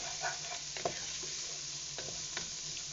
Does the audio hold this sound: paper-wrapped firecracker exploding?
no